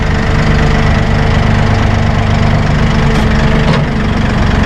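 A Massey Ferguson 1840E hydrostatic compact utility tractor idles with a steady, loud, close diesel rumble while its loader bucket dumps. The drone holds even throughout, with only a faint shift near the end.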